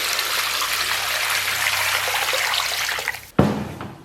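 A kitchen tap pours steadily over blanched pig trotters being rinsed, a close, even rush of water that cuts off abruptly, followed by a brief clatter and dripping.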